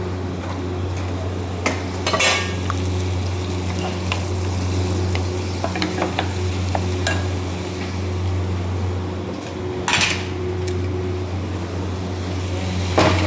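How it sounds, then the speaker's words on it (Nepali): Tomatoes and bell pepper sizzle in a pan for pav bhaji, a steady fry under a constant low hum, with a spoon scraping and clinking against the pan now and then. "टमाटर थोड़ा भुन्नुपर्छ"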